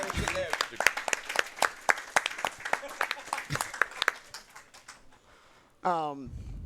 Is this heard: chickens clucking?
no